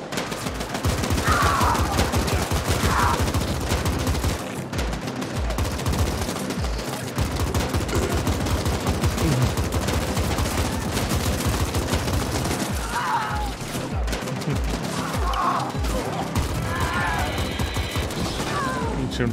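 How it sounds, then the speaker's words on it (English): A heavy machine gun, the G42 Dominator, fires in Cyberpunk, with long rapid bursts of loud close gunfire broken by short pauses, mixed with mechanical clatter and bits of game voices. "I must have picked up some kind of heavy machine gun"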